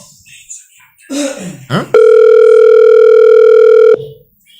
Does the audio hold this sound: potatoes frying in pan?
no